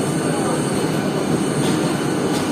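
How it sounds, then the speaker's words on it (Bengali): A Sealdah–Ranaghat AC local train pulls away from platform one, its wheels and carriages rumbling in a loud steady roar up close, with faint squeals rising briefly along the rails. "এক নম্বর প্ল্যাটফর্ম থেকে ছেড়ে দিল রানাঘাট গ্যালোপিং এসি লোকাল"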